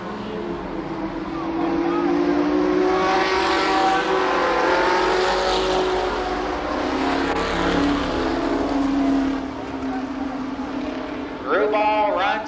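Race cars lap a speedway in a 1993 memorial event, engines droning and rising as they pass, under continuous announcer commentary.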